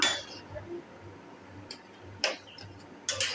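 A lid is lifted off a pot of boiling potatoes, giving a few light metallic clinks and taps spaced over a faint, steady background.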